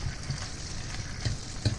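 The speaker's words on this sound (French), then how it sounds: "j'ai fait dorer un peu mes calamars, hein, avec de l'huile d'olive" Squid pieces browning in olive oil in a pan, a soft steady sizzle with a few small pops and stirring clicks, close and moderately quiet, with no voices.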